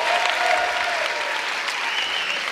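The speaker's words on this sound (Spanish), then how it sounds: "Un aplauso para Ignatius" A studio audience on a late-night talk show applauds Ignatius with dense, steady clapping that fills the room at a strong, even level throughout.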